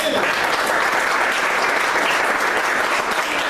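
A church congregation breaks into loud, sustained applause during a sermon, many hands clapping in a dense, even roar that fills the room for several seconds.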